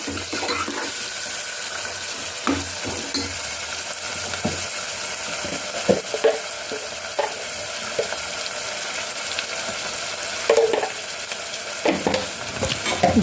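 Oil sizzles steadily in a pan as snails are fried with onions for a curry. The hiss is loud and continuous, broken by occasional clanks and scrapes of stirring, and there is little talk.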